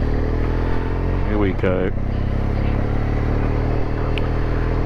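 A BMW RT touring motorcycle ridden off-road, its engine a constant droning rumble throughout, with a brief spoken exclamation partway through.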